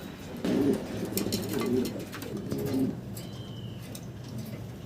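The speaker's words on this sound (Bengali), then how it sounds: "অনেক কবুতর আছে দর্শক" Pigeons coo at a pigeon farm, three low rolling coos in a row, close and moderately loud, followed by quieter ambient bird sounds.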